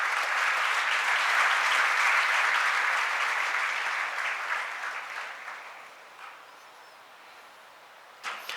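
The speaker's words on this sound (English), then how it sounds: "Let's welcome him with a big round of applause." Large audience giving a big round of applause to welcome a speaker onto a stage, loud and sustained at first, then gradually fading away to scattered claps.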